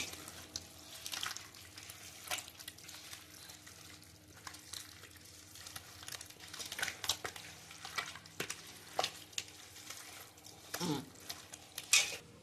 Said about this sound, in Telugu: నిమ్మరసం మళ్ళీ అంతా ఒకసారి కలపాలి. ఇది బాగా కలుపుతానే ఉండాలండి.